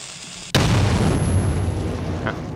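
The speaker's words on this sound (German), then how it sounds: "Ist das jetzt nur so eine Blendgranate oder explodiert die auch?" A grenade detonates in the video game Metro 2033 with a sudden loud boom, followed by a long rumbling decay and a faint trailing whine.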